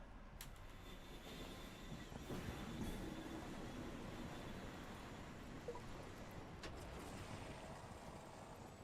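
A train in the Apex Legends video game rumbles along steadily with a low rolling drone and faint squeals, a continuous mechanical bed heard without talk.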